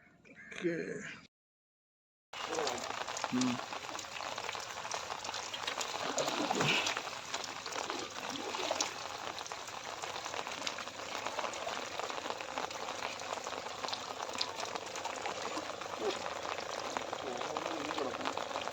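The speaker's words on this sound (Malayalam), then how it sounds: "രാവിലെ പൊളി മഴ." Heavy morning rain on a fishing trip falls as a steady, dense hiss throughout after a brief burst of speech and a short silent gap, with occasional faint voices beneath the downpour.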